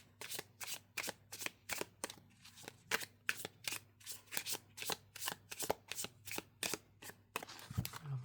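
Tarot cards shuffled by hand in a steady run of crisp riffling bursts, close and fairly quiet, with a soft thump at the end.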